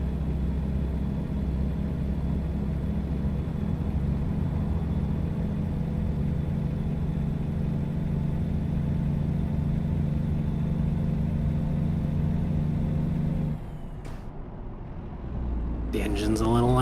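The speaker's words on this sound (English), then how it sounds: "The engine's a little loud, yeah." A truck engine drones steadily and loudly in American Truck Simulator, a continuous low rumble that drops off sharply near the end before picking back up.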